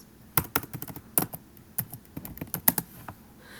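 Quick, irregular clicks of keys being typed on a computer keyboard, close and fairly quiet, with short bursts and brief pauses in a quiet room.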